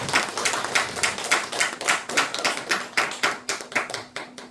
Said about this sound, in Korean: 축하의 의미를 담아서 박수 한번 올려주면 좋겠습니다